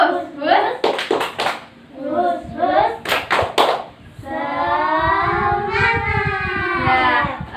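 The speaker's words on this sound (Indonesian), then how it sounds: "Tepuk semangat." Schoolchildren perform a rhythmic spirit clap, several quick sharp clap bursts between chanted group voices, followed by a sustained shouted group cheer, close and loud in a classroom.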